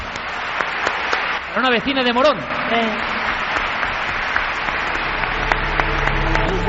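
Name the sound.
audience applause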